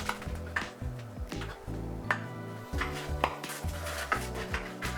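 Anzac biscuit dough is cut on a baking tray, producing a close, quiet run of irregular knocks and taps of a blade against the metal, with no talking.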